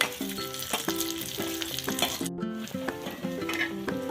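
Green chillies and coriander masala roast in a pan over a wood-fired stove, crackling and sizzling steadily and loudly with stirring scrapes, in a brief pause partway through.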